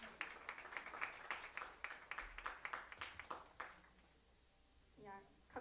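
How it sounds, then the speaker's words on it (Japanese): Audience applause at a Kansai University light music club winter concert, a dense wash of clapping that swells for about four seconds and then fades out, followed by a short tonal passage near the end. "拍手お願いします"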